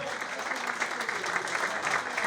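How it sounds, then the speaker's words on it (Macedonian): Audience applauding for Mirko Petrov at a generations reunion of the Teteks club in Tetovo, a steady wash of clapping from a crowd, with a voice faintly underneath. "Уште еден аплауз за Мирко Петров."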